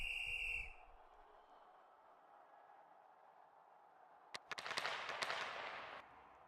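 A referee's whistle in an ice hockey video game match, a short sharp blast right at the start, followed by quiet ambience and then a burst of crowd noise and clatter from the arena.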